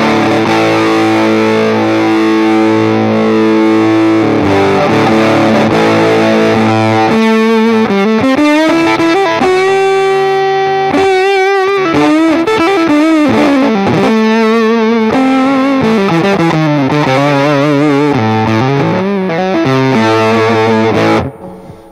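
Electric guitar played through an Expandora Forbidden Fuzz pedal into a Deluxe Reverb amp, giving a loud, saturated fuzz tone on sustained chords and bending single notes. It plays steadily on its own and cuts off abruptly at the end.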